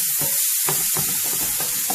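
Frozen peas and chopped scallion cook in a pan, giving a steady bright hiss with gentle stirring scrapes and brief gaps, close up and with no talking.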